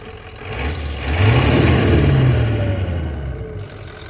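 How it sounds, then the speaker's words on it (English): A 1993 Ford F-250 truck engine with a turbo and straight exhaust revs up with a deep rumbling roar, rising and holding before easing off, loud and close. "Hear that turbo when you let out of it."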